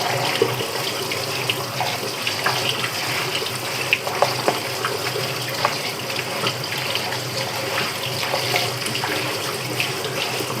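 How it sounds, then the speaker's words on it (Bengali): Tap water runs steadily and fairly loud while rice is washed and drained in a basket at a kitchen sink, with light splashing throughout and no talking. "আমি এখন হচ্ছে যে চালটা ধুয়ে পানিটা নিয়ে রাখবো এই ঝুড়িতে করে"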